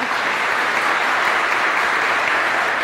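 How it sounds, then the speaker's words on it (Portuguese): Steady, dense applause from an audience at a book launch for a builders' community, continuous clapping with no break. "Aplausos."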